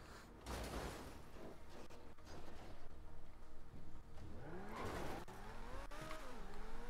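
A car in a video game drives and skids, with a loud engine rumble, revving and screeching tire squeals near the middle and end, heard close over game sounds with no talk.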